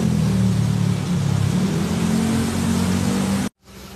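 A Suzuki motorcycle engine is checked before purchase, with a loud, close, steady droning rev that wavers slightly, then cuts out abruptly near the end and resumes at lower volume.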